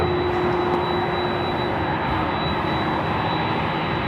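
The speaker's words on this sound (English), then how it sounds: "You're hearing that Delta 767-300ER heading to Honolulu, flight 465." Jet engines of a Delta Boeing 767-300ER at LAX airport, a loud, steady broadband roar with a constant high whine running through it.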